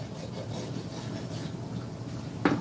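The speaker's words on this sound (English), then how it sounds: "You can see the angle I'm taking with the Farrier rasp." A farrier rasp files with a steady, continuous rasping scrape at close range, fairly quiet throughout and ending with a sharp knock.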